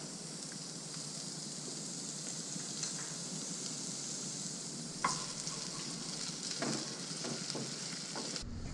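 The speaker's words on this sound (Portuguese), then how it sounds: "Aqui eu vou colocar um pouquinho de alho, vou refogar, né, alho e cebola." Garlic sautéing in a pan gives a continuous close sizzling hiss, with a few sharper stirring clinks and crackles partway through.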